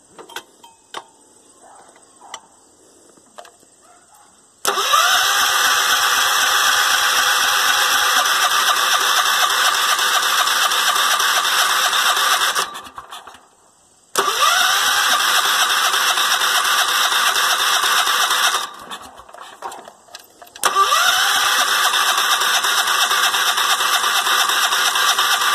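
Tractor engine in a hay field cranking and catching, then running loud and steady, cutting out and restarting twice with short gaps in between.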